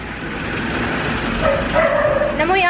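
A small dog yips and barks a few times amid busy background chatter, with a higher whimpering tone near the end.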